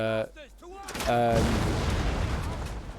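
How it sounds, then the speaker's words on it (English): Culverin artillery shelling in Total War Medieval Kingdoms: a few distant cannon booms, then a loud close blast that rolls into a long rumbling decay. "So we got some culverines here, and they're shelling."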